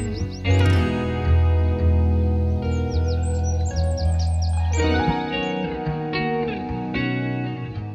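Dawn birdsong near Horsey Windpump in Norfolk: clear, loud chirps and trilling phrases repeat over a steady low background hum, with no talking.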